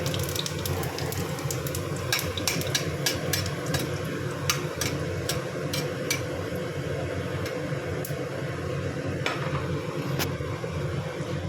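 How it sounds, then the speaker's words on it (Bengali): Cumin seeds and chili tempering sizzling in hot oil after potatoes were fried, a steady hiss of frying dotted with sharp crackles and pops throughout. "এবার একটু জিরে আর একটু লঙ্কা ফোড়ন দিলাম"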